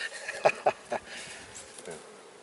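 Honeybees buzzing around a healthy hive during a colony transfer, a close, wavering insect drone with a few louder passes as bees fly near, steady and moderately loud.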